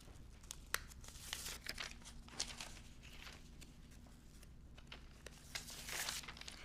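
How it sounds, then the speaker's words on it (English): Foundation paper is being torn and pulled away from a sewn quilt block, producing repeated quick crinkling rips and rustles at close range, fairly soft, with no talking. "Now I removed the paper, and you can't use the paper again"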